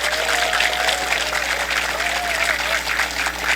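Reporters and attendees applaud at a press conference where a provincial councillor announces a run for county head. The clapping is continuous and close, and a voice carries faintly over it.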